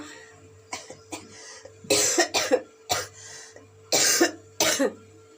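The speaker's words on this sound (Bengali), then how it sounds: "এখনো পর্যন্ত ঠিক হয়নি কাশিটা আছে" A person with a lingering cough coughs in several separate harsh bursts, some in quick pairs, spread over a few seconds in a quiet indoor room.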